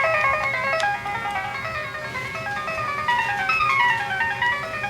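A telephone ringtone plays a bright, repeating electronic melody of rising and falling tones, fairly loud and continuous, over faint background noise.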